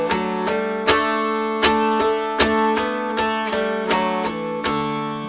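Three-string mountain dulcimer strummed with emphasis on the bass melody string, bright ringing strokes in an uneven rhythm with a stronger downward accent on each beat, close and solo without speech.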